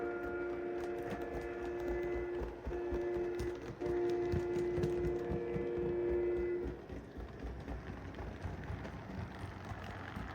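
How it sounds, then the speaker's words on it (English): A model mixed train switches its cars on a layout: a steady rolling rumble with a sustained tonal whine that drops away partway through, leaving a softer clatter. "this mixed train does its switching that it needs to do to make up the train"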